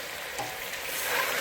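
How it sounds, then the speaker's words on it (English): Cow tripe frying with onions in a pan, a steady close sizzle with a faint stir partway through. "I'm putting them in right now because I want them to absorb the aromas from the onions."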